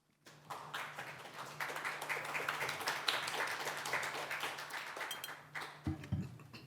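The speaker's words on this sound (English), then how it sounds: "Everyone, please give them a round of applause." Audience at a live Dungeons & Dragons event applauding the players, quiet and somewhat distant, building quickly and holding steady before tapering, with a low hum underneath and a bump near the end.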